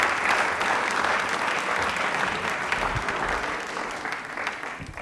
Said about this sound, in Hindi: एक बार तालियां जोरदार हो जाए डॉक्टर साहब के लिए।